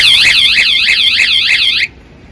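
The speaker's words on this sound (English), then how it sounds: "a light tap instigates the 2-second alarm warning" A loud electronic van alarm warbles in rapid repeating sweeps for about two seconds as a warning triggered by a light tap, then cuts off abruptly.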